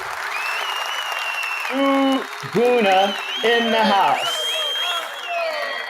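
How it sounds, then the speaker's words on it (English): An applause sound effect plays during a Premier League predictions livestream, a continuous burst of clapping and cheering with someone speaking loudly over it. "Let's give you a proper applause."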